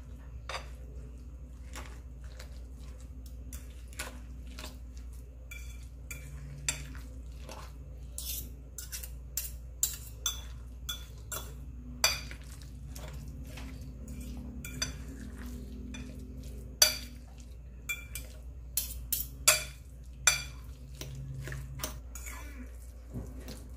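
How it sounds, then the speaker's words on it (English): Eggplant patty mixture is stirred in a bowl, quiet scraping punctuated by irregular sharp clinks of a utensil against the dish, growing busier toward the end. "Continuous natin sa paghalo."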